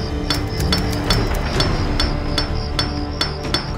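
A hammer pounds repeatedly in a steady rhythm, about two blows per second, loud and close over a dense background, used as a sound effect in a television crime reenactment.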